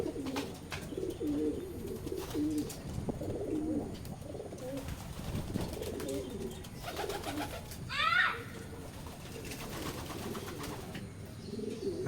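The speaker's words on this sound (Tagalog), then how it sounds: "Ito mga kalapatids." Soft pigeon cooing murmurs steadily through a busy loft, with low background rumble and a brief flutter of wings near the end.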